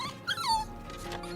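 A frightened dog lets out a high, rising whimper, close and brief, over a low steady background.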